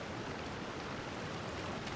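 A waterfall in the video game Genshin Impact, a steady, even rushing of falling water, broad and unbroken, at moderate loudness with no other sounds.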